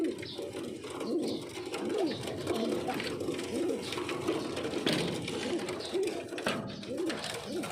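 Pigeons coo in soft, repeated rolling calls over a steady low background hum, fairly faint and continuous throughout.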